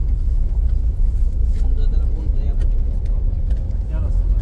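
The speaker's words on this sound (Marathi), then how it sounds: "गाडी निघालेली आहे आता" A car pulling away on a road in the Konkan during the Ganpati festival, giving a loud, steady low engine rumble throughout with faint rattles, while voices talk over it.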